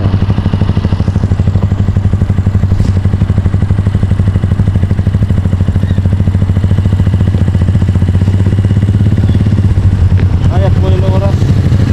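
A motorcycle engine runs close by in a steady, rapid chugging pulse that stays constant throughout, with a person speaking over it.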